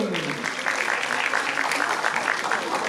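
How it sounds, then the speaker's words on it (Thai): An audience at a charity concert of Thai popular songs gives a steady round of applause, close and continuous, with faint voices beneath. "ขอเสียงปรบมือให้พีเอสดังๆสักครั้งหนึ่ง"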